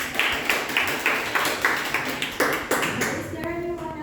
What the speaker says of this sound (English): Everyone, please give applause for the